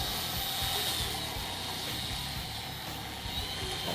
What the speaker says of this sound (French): Et un atterrissage sans la reverse.